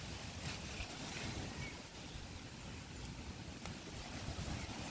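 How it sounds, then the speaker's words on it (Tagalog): Strong wind sweeping through a vegetable garden, a steady loud roar and rumble of gusts buffeting the microphone, with no talking. "Ay, ang lakas ng hangin."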